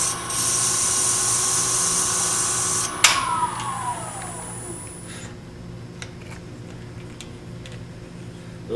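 A small rotary tool smooths the edge of a miniature wooden nesting box lid, a steady high whine for about three seconds that winds down and stops, followed by quiet faint ticking and handling sounds.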